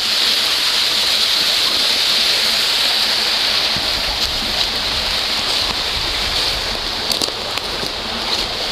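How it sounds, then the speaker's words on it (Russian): Water pours steadily from a pipe where it turns near a stream outdoors in Zheleznovodsk, a constant loud broadband rush with nothing else heard over it. "Вот здесь труба поворачивает, и вода туда пошла уже."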